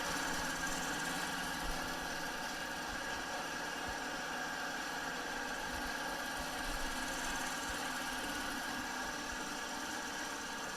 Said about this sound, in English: So I'm going to sew just a few stitches